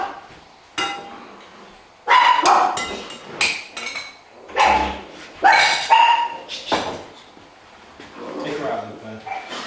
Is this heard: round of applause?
no